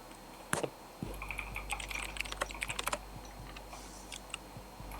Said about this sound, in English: You just hear Furious typing in both ends.